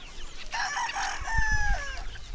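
A young gamefowl stag crows once at moderate distance, a short rising then trailing call over faint background noise on a farm.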